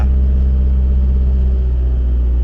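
A car engine idles as the clutch is eased toward its biting point, giving a loud, steady low drone whose tone shifts slightly and settles, with no talking over it.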